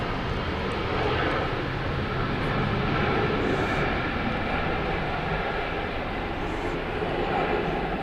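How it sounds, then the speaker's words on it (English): Sustained engine roar of a Boeing 737-800 cargo plane at Seoul Incheon Airport, a loud, broad, steady rumble that fills the whole stretch without pause. "It's a 737-800, so rare."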